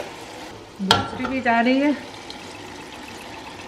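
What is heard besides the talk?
ragu sauce being added to frying beef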